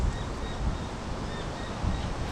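Wind blows across an outdoor caravan holiday park on the Gold Coast, a faint steady rushing with low buffeting gusts on the microphone.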